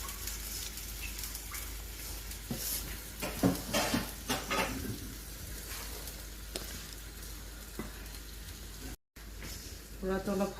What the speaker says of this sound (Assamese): গুড়াটো খুন্দি কেনে ভাজি ল'লোঁ এতিয়া